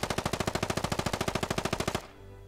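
Rapid automatic rifle fire in the military shooter Squad, a steady burst of about twenty evenly spaced loud shots that ends abruptly as the magazine runs dry, leaving a faint hum.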